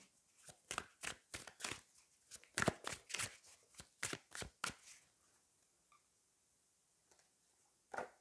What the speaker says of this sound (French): je vais aller prendre deux cartes ici, par rapport à la tour